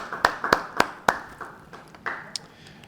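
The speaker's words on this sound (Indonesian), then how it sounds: "Yang setuju beri tepuk tangan bagi dia." Members of a congregation at a Bible study clap, several crisp claps in a loose rhythm, then softer scattered ones trailing off, close and distinct.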